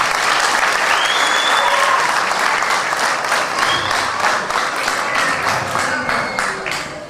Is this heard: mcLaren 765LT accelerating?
no